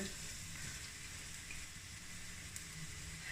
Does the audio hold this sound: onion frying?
yes